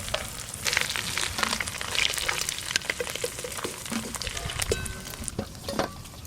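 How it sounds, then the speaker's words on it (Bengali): Shrimp frying in hot oil over a village-style fire, a steady crackling sizzle with sharp pops and spits scattered throughout, close and continuous with no talk. "যা আছে সব চিংড়ি মাছ এবার একসঙ্গেই ভেজে নেব"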